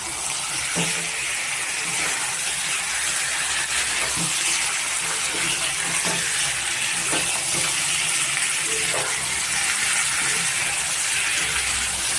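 Steady, loud hissing sizzle of chicken added to a hot pan of fried ingredients, with occasional soft clinks and stirring sounds, continuous throughout with no talking.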